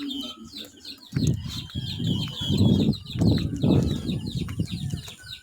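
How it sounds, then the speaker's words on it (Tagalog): Birds chirp and tweet steadily in the background, while loud low rustling, like movement or footsteps, rises and falls from the second second onward. "Ganda ng mga huni-huni ng mga ibon-ibon."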